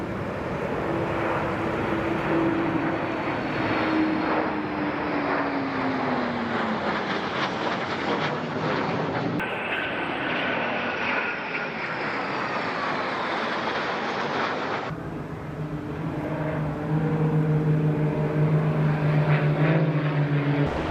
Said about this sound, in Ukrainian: ми помітили, як в небі пролітали цивільні та військові літаки